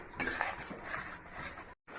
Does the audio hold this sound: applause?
no